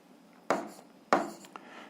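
Two quick scratchy strokes of writing on a board as an algebra equation is written out, each a short sharp rasp that fades away, fairly close and alone without talk.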